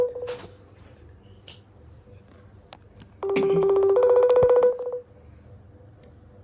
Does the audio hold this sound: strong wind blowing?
no